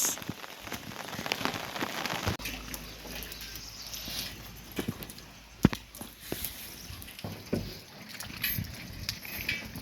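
Rain falling steadily on surfaces outdoors, a soft continuous patter with scattered louder drips and taps, faint and without voices.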